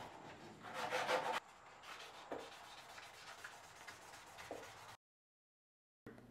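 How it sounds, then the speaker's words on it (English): Abrasive rubbing on wooden knife handle scales as their front faces are sanded and profiled: a loud, harsh scraping burst at first, then quieter steady rasping with a couple of sharp scuffs, ending in a gap of silence. "I'll profile the front faces of the handle scales"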